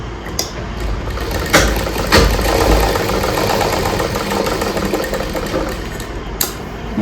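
A sewing machine stitches a blouse with a steady, close, continuous mechanical whir and a few brief knocks, running alone without talk.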